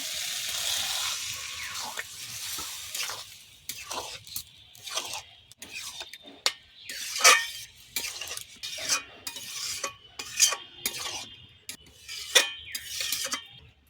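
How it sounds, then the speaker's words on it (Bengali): Spoon stirring lentils (dal) in a pan while egg curry cooks, with repeated scraping strokes and light sizzling, clinking of utensil against the pan close by, no talk. "এবার ডালটা দেব ডাল দিয়ে দেবো"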